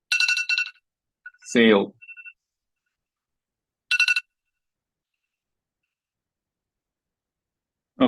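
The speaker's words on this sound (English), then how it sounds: "I couldn't hear my phone alarm going off." Electronic phone alarm tone sounding in bursts, a patterned beeping near the start and again around four seconds, loud and close, with a brief voice exclaiming in between.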